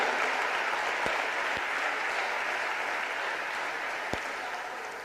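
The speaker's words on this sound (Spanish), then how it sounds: "Vamos a dar un aplauso al Señor" A church congregation applauds during a Spanish-language sermon, a sustained wash of many hands clapping, even and fairly loud, with a few sharper single claps standing out.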